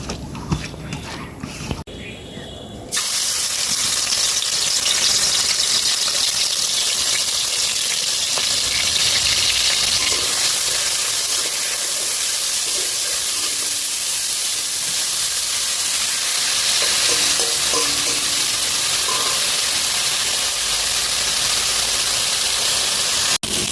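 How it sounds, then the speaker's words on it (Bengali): Shrimp dusted with turmeric and a little chili powder fry in hot oil with a loud, steady, dense sizzle. The sizzle starts abruptly after a brief quieter opening and holds throughout. "মাছগুলা ভেজে তুলে নেবো লাল লাল করে"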